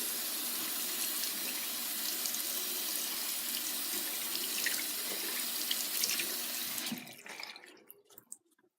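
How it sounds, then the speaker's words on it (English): An aquarium filter cartridge for an Aqueon Quiet Flow E internal filter is rinsed under a cold kitchen tap, a steady loud hiss of running water that stops abruptly near the end, leaving faint drips. "I want to take the cartridge and then rinse it in cold water for a few seconds"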